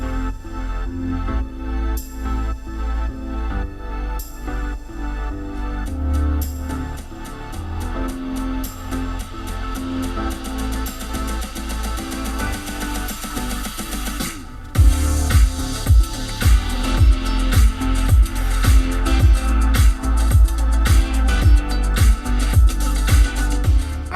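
Music plays through the Sony sound system inside a Chery Tiggo 8 Pro. It starts as a steady, full mix, then heavier, punchy bass beats come in partway through.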